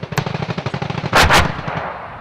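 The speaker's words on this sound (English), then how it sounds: "What you're hearing now is effective machine gun fire." A quick, rhythmic burst of M240 machine gun fire during a US Marine infantry exercise, followed by a louder blast that fades out.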